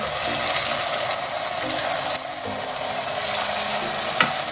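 Onions hit a hot pan for a chicken and potato curry, giving a steady, close frying sizzle throughout with faint stirring clinks and scrapes.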